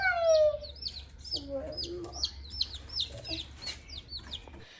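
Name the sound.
baby chicks in a box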